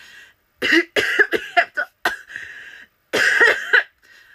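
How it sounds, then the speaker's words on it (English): A person coughs repeatedly in close, harsh bursts, several quick coughs followed by a longer fit, with no talking. "Isn't that the way we're supposed to cough now?"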